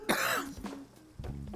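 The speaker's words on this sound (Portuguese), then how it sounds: "Já tava tossindo um pouquinho." A woman coughs and clears her throat while cooking, a short rough burst followed by a couple of smaller throaty coughs, close and fairly loud with no talk.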